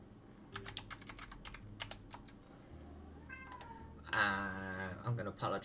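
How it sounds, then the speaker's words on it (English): A cat meows and whines in the background of a drawing session, with a long drawn-out cry near the end, heard over steady keyboard typing and mouse clicks. "I'm going to apologise for that cat whinging in the background right here."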